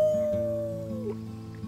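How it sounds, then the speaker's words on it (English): Characters in the video game Life is Strange 2 howl like wolves, a single sustained howl that slides downward and fades over under two seconds, with a low drone behind it. "Let's start with our team Howl."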